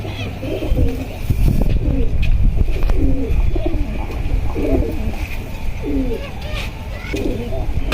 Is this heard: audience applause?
no